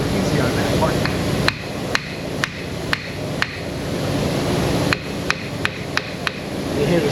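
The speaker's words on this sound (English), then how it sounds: "You hear the sound of the hammer change" Sharp metallic hammer taps drive a car axle into a transmission, about a dozen distinct close strikes in uneven clusters over a low background hum, with no talking.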